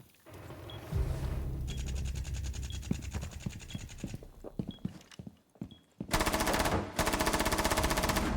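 Automatic gunfire in a first-person shooter video game, with bursts of rapid shots broken by short pauses, then a long loud sustained burst near the end, all close and without speech.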